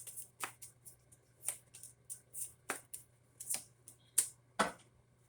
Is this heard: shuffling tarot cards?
yes